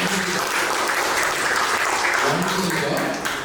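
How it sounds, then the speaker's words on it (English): A crowd claps steadily in sustained applause, a dense patter filling the room while voices murmur faintly underneath. "Let's give a big round of applause"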